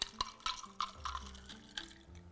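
A white cocktail open-poured from a shaker over ice, with a few distinct ice clinks and splashy drips scattered through a quiet, short pour.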